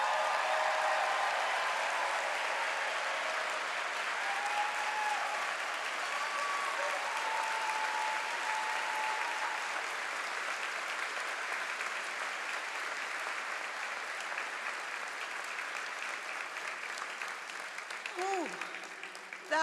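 A graduation ceremony audience gives a long, sustained burst of applause. Dense clapping fills the hall for nearly twenty seconds, and a few cheers rise out of it before it tapers off.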